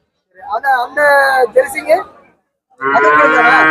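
Cattle low and moo repeatedly at a busy Tamil village cattle market, several loud close calls in bursts with a pause between, over faint crowd chatter.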